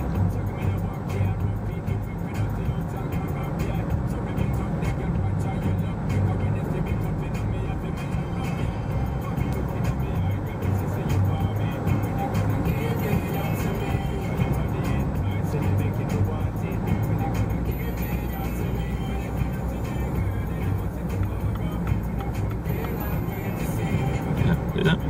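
A BMW X3 engine drones steadily from inside the cabin while driving with light throttle and gear changes, a constant low rumble with road noise under occasional talk.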